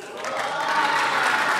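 An audience applauds boxer Anthony Obame as he is welcomed, a brief burst of dense, steady clapping from a crowd that swells slightly.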